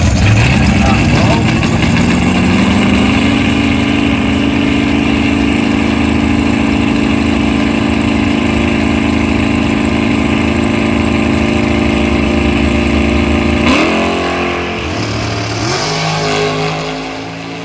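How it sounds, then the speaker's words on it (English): Dragster launching down a drag strip at a bracket racing event, a loud sustained engine roar with rising pitch that holds steady for most of the run, then drops and fades near the end as the car passes. "Here comes the dragster."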